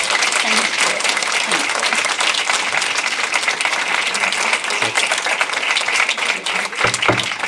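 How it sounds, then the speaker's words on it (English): An audience gives Lianne a round of applause at an event on emotional eating, with loud, dense clapping that holds steady throughout and a few thumps near the end. "Come in for a round of applause for Lianne, everyone."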